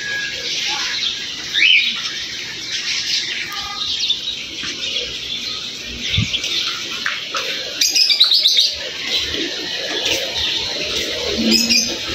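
A small bird chirps and tweets repeatedly in short, bright bursts, fairly close and moderately loud over faint background room noise.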